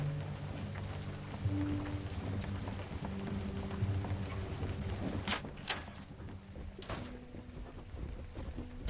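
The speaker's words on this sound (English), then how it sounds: "Sorry about all the rain, Miss Eva" Steady rain falls throughout a scene in the video game A Story Beside, a dense constant patter mixed with faint game music, broken by a few sharp louder drops or splashes near the end.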